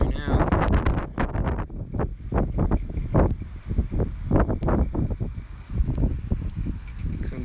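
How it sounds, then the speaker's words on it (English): Gusty hurricane wind from Hurricane Eta in Fort Myers, Florida, buffeting the microphone in loud, irregular rumbling bursts, with a voice talking faintly beneath. "You might even hear a little bit of howling wind"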